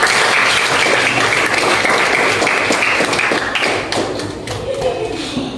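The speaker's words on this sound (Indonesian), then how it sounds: "Kasih tepuk tangan dulu untuk semua." A classroom of students gives a round of applause, dense and lively clapping for several seconds that gradually thins and quiets toward the end.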